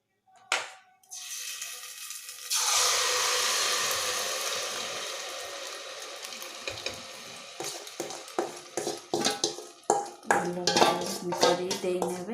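Poda pitha batter poured into hot Dalda ghee, a sudden burst of bubbling sizzle that settles into steady frying, followed by scraping clatter of a utensil against the pan.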